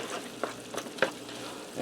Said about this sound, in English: I'm going to give this a stir, get this blended together quick.